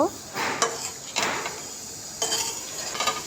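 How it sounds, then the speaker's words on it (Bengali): Chickpeas with spices are stirred in a pan for aloo chola, giving a few scraping, clinking spoon strokes over a soft sizzle. "ছোলাটা দিয়ে একটু ভালো মতো নাড়া দিব।"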